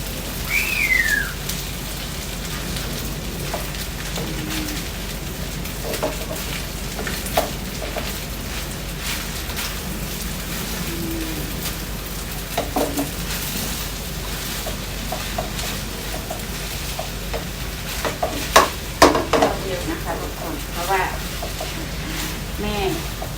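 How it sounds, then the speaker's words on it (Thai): Egg fried rice stir-fried in a pan, a dense steady sizzle with occasional spatula scrapes and clinks running throughout, fairly loud and close, with someone talking intermittently over it. "ผัดผัดไปเลยนะคะ"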